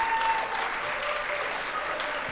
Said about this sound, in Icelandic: Mikið fagnað.